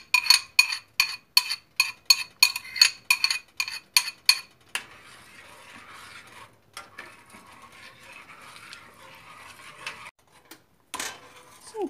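Spoon stirring yogurt soup in a pot, a fast run of about a dozen sharp metallic clinks in steady rhythm, then softer scraping and irregular stirring noises, fairly quiet and close.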